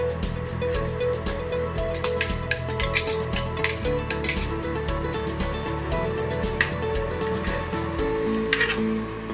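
Utensils clatter against a pan as scallions are tossed in and stirred while cooking miswa, a close run of metallic clinks and scrapes over a steady kitchen background.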